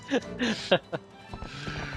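Horse sounds from the Zelda Twilight Princess video game: short neighs and whinnies mixed with rhythmic hoof clip-clops, several bursts over about two seconds, with game effects in the background.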